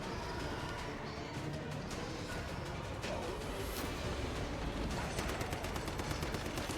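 Rapid gunfire from the video game Once Human, with dense automatic bursts of shots over constant combat noise, close and steady, quickening toward the end.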